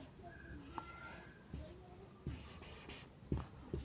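Soft scratching strokes of writing the letters of the word TALL by hand, a few faint separate scrapes and taps at close range in a quiet room.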